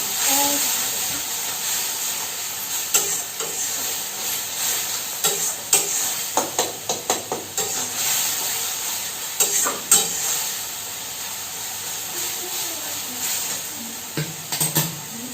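Spice masala for a sardine fish curry fries in a pan, a steady close sizzle and hiss broken by repeated scraping stirs, with no talking.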